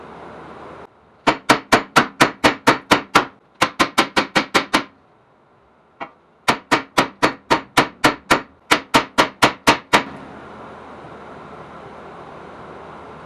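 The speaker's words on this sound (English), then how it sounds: "we're going to beat the shit out of this with a hammer" Rapid, loud metal hammer strikes on a Ford Taurus rear hub bearing in several bursts of about ten blows each, separated by short pauses, close up with no talking.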